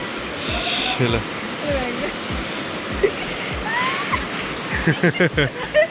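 Feet wade through fast-flowing stream water over stones inside Robbers Cave (Gucchu Pani) near Dehradun in monsoon season, a steady rushing wash with splashy steps near the end, while people talk over it.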